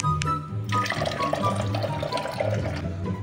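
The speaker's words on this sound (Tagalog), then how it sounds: "lagyan na natin ng tubig yan" Water gushes and splashes steadily into a water fountain container, close by, with a low gurgling rumble throughout and no talking.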